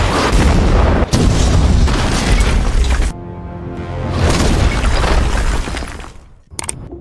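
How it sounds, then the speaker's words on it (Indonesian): Explosions in a superhero film scene, a heavy roaring blast with shattering debris that rumbles on, drops back, then swells again before a final sharp crack. "Saat para tentara bayaran akan meledakkan tempat itu, Superman pun datang"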